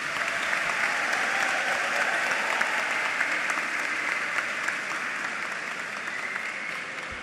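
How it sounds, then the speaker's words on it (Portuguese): A university audience at a rectorship candidates' debate gives steady, even applause, a dense wash of clapping at moderate distance that holds for the whole stretch without talk. "Uma salva de palmas, por favor."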